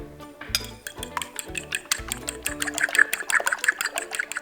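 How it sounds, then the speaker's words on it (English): A whisk beats eggs with milk, pepper and salt in a bowl, a quick run of rhythmic clinking taps against the sides, close and fairly soft. "Add in a little bit of milk and pepper and some salt, and then we'll give it a quick whisk."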